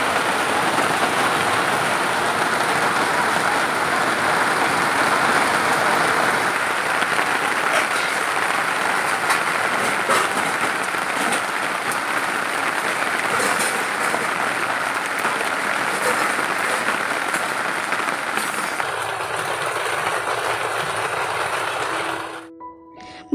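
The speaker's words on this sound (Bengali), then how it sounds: "বাইরে নেমেছে ঝমঝম করে বৃষ্টি।" Heavy rain pouring down outside, a loud, continuous roar of drops close by that holds steady and then thins out near the end as a faint tone appears.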